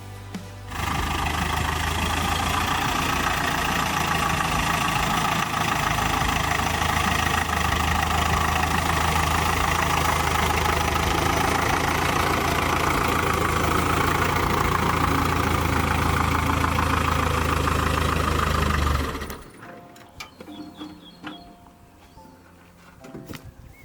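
A tractor engine idling loud and steady with a low, knocking rumble for about eighteen seconds before cutting off abruptly, leaving quiet background with faint scattered sounds.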